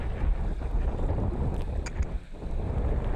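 Strong wind gusts across a seashore in rough weather, with fishing boats moored nearby and big waves; a steady, loud broadband roar of wind buffeting the microphone continues throughout, with no talking.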